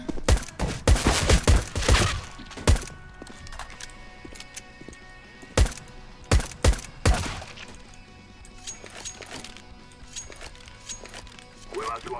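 Gunfire in a first-person shooter 1v1 ranked match, tight clusters of sharp shots in quick bursts with pauses between them, loud and close, fading to sparse scattered shots, with talk underneath.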